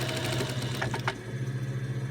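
A sewing machine stitches and back tacks fabric while sewing a bag, giving a steady close mechanical hum with a short burst of faster stitching partway through, alone with no talk.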